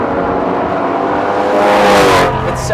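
A Ford Mustang Shelby GT350 with a flat-plane crank engine revs loudly, its harsh engine note climbing and peaking before easing back, heard close from outside the car.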